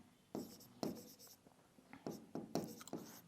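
A pen writes a chemical name on a board or page during a chemistry lesson, with a few distinct scratchy strokes in bursts, close and fairly quiet, with no talk over them.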